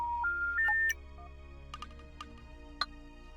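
A phone in the video game The Dark Side of the Moon rings with a short electronic melody of rising tones, followed by scattered faint clicks and ticks over a low steady hum.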